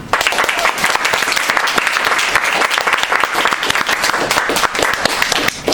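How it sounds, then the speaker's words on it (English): An open mic audience gives dense, loud, sustained applause for the stage crew, many hands clapping steadily throughout. "just round of applause for them."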